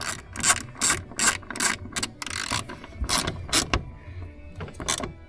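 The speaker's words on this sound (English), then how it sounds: "you just go ahead and retighten it" A ratchet wrench retightens a panoramic sunroof bolt on a 2014 Mercedes W212 E350, giving several bursts of quick, close clicking strokes separated by short pauses, with no talk.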